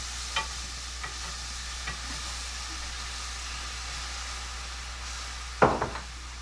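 A flour and milk gravy is stirred in a frying pan, with a soft continuous sizzle and bubbling, a few light taps, and a louder scrape of a utensil against the pan near the end.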